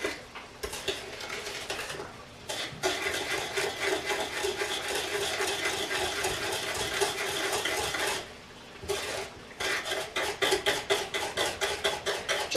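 An electric mixer beats chocolate pie filling with butter, a close, steady whirring rattle that runs in long stretches and stops briefly twice before starting again.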